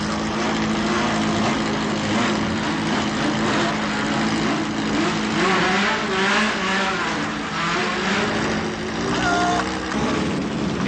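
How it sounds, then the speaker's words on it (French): Simca Rallye 2 rally cars of the Group 1 series touring class at the start of a race, several engines revving and roaring together continuously and loudly, with no voices over the noise. "Les voitures du groupe 1, c'est-à-dire Tourisme de série, sont au départ maintenant."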